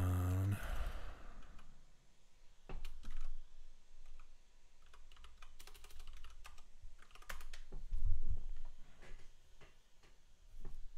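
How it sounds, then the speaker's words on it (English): Someone types a git URL by hand on a computer keyboard, scattered bursts of key taps with pauses between, quiet and close, after a brief louder sound at the start. "Manually typing in a git URL."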